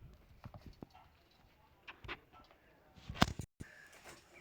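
Young goats move about, making scattered light hoof taps and shuffles at close range, with occasional sharper knocks and faint voices in the background.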